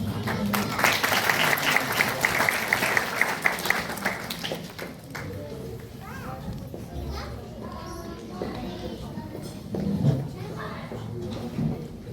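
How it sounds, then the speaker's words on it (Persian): Applause from an audience at an Eid al-Ghadir celebration, greeting a performer walking on stage, mixed with children playing and chattering nearby; clapping is strongest early and fades into room noise and voices. "لطفاً با تشویقتان ایشان را لطفاً روی استیج همراهی کنید"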